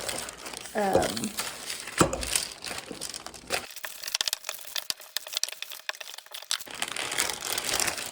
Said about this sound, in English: Put it on the parchment paper, fold it, and just roll away.